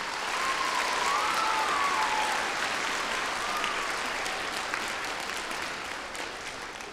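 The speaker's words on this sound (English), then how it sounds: "Give yourselves a round of applause." An evening string festival audience applauds its performing groups, a dense, steady wash of clapping from a large crowd that holds strong before slowly thinning toward the end, with faint voices rising briefly within it.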